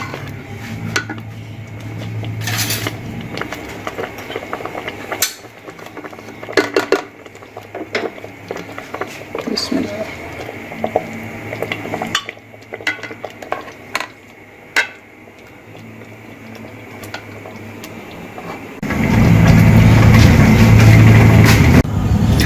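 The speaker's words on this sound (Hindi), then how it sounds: "अब हम इसे डिश आउट करते हैं।" Sheer khurma, a milky vermicelli dessert, is ladled from a pot into a serving dish with repeated clinks and scrapes of spoon against metal and glass, followed by a louder steady rush near the end.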